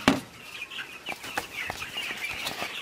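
Chickens in a poultry house during heat stress, with the air near 37 °C, give scattered short clucks and sharp calls. The calls form a steady, busy chatter close by, over a low background hum.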